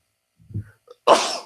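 A single sharp sneeze, preceded by a brief quiet intake of breath, bursts out close and loud.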